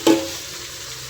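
Fajjo gets stirred in a pan, opening with a single brief scrape of the spoon, then a low, steady sizzle and stirring noise close by.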